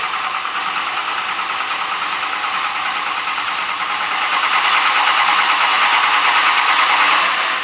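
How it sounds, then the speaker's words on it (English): A Cummins diesel engine cranks over on its very first start, a steady mechanical whirring churn that holds for several seconds and grows slightly louder near the end, with no voices over it. "Mike, keep it cranking."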